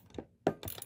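A wrench turns a bolt during an HVAC ECM blower motor replacement, giving a couple of short, close metallic ratcheting clicks and scrapes separated by a brief pause.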